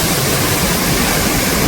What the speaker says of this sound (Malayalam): ദൂരെ നിന്നും കേൾക്കുന്ന വെള്ളച്ചാട്ടത്തിൻ്റെ ഇരമ്പൽ ശരിക്കും ആസ്വദിക്കാൻ പറ്റിയ